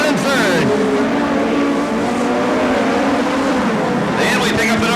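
USAC Western States midget race cars scream past one after another on the Bakersfield, California track in 1997, their pitch sweeping as each goes by, under a race commentator's voice.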